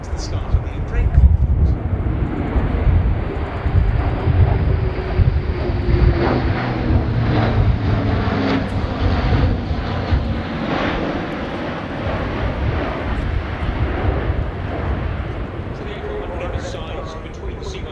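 German Air Force Airbus A400M Atlas transport aircraft during a flying display at RIAT air show, a loud continuous propeller-engine roar with wind buffeting that slowly swells and fades.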